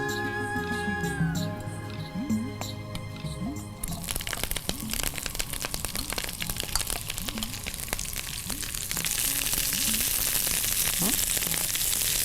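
Broccoli, zucchini and small cauliflower toss in hot tempering oil, giving crackling, crunchy sizzles and repeated stirring scrapes up close, building into a denser, steadier fry toward the end.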